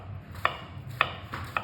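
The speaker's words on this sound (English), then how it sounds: "Using the point of the knife, go through the onion, but not again through the root," A chef's knife chops through an onion onto a chopping board in three crisp, evenly spaced knocks, close and clear with no talk.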